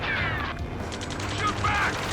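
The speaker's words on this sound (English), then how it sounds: "Return fire! Sierra 2, hold position! We're cut off! Taking fire! We're pinned down!" Rapid gunfire and mechanical clatter in the video game Ace Combat 7 during a ground firefight, short bursts layered over continuous battle noise with shouted voices.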